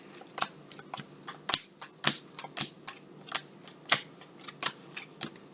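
Quick, crisp playing-card flicks snap one after another in an uneven rapid rhythm, close by with no voices.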